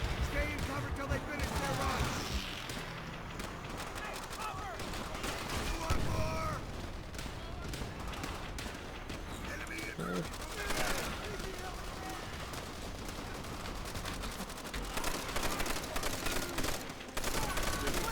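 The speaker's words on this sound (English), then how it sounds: "pressing fire as you walk forward, and just provide walking fire" Continuous gunfire rattles through a Call of Duty: World at War battle while the player walks forward firing, dense bursts layered over background combat noise for the whole stretch, with a voice talking over it.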